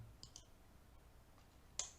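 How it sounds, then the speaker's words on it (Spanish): A few quiet, sharp clicks of a computer mouse, the last one crisp and slightly louder, against a near-silent room. "le doy clic sostenido"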